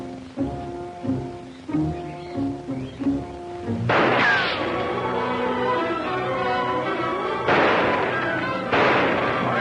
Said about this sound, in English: I'll open up with a barrage from my gun.